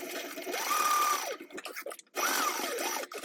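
A sewing machine stitches a zipper seam at a 1/8 inch seam allowance in two loud, steady whirring bursts, separated by a short pause with faint handling noise.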